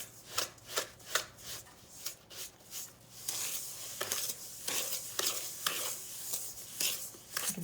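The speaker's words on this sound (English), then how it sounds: "You just cream the butter and the sugar together with a spoon and just smooth it out" Butter and sugar being creamed together by hand with a spoon in a bowl for chocolate almond orange biscotti, giving a steady run of soft scraping, rubbing strokes in an irregular rhythm, close and fairly quiet with no talking.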